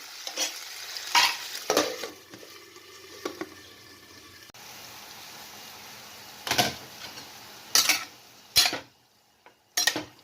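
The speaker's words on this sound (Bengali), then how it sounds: "নাড়াচাড়া করে দিলাম আবার আমি ঢাকা দিয়ে দিলাম" Yardlong beans being stirred in a pan over low heat, with several scraping clatters of a utensil against the pan between quiet stretches of soft sizzling, close by and without talk.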